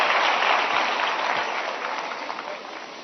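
Large audience applauding in a hall, a dense burst of many hands clapping that starts loud and gradually tapers off over a few seconds.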